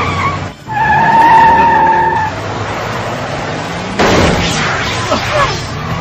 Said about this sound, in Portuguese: Agora vire o carro! Eu vou dar marcha ré!